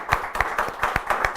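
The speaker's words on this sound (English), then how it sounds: "that deserves a round of applause" A small group claps for a 16-year-old captain of the Irish youth fly fishing team, roughly a dozen sharp, separate handclaps in an uneven rhythm, close and fairly quiet, with no voices.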